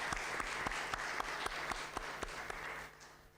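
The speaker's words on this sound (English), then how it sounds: "a great applause for them" Audience applause at a One Health student conference, a steady wash of clapping with a few sharper individual claps standing out, holding level for a few seconds before thinning slightly at the end.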